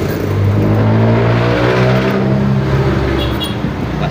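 Loud road traffic roars past a roadside workspace. A vehicle engine drones and revs steadily close by, with no pause in the noise.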